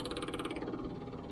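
A Range Rover's electric fuel pump runs as a steady, continuous hum with a fine rhythmic pulsing, close and moderately loud, alone without voices for the whole short stretch.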